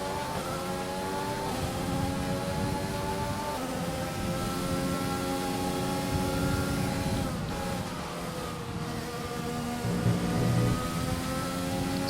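A racing car in the F1 2020 video game at the British Grand Prix wails with a high engine note that rises and falls as it fights for grip and nearly spins, alongside other cars' engines, with no talking.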